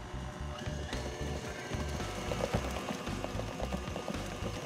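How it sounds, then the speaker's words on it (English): An electric mixer whirs steadily through lemon cake batter with a rhythmic, pulsing motor drone, close and fairly quiet, with no talking. "mix on low speed and then increase the speed just to aerate the mixture a bit."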